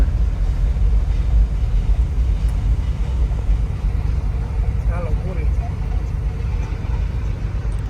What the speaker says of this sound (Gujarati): ટ્રેન પૂરી નીકળી ગયા